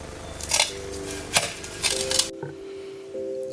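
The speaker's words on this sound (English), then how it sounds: "So I've cut off the stems now" Potato plant stems in a garden bed being cut off with a knife or shears, giving a few sharp snipping and crunching hits around the first two seconds before the sound turns quieter, with steady tones in the background.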